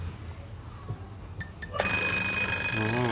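After a quiet stretch with a couple of faint clicks, a bright electronic alarm clock bursts into loud, steady ringing that continues to the end.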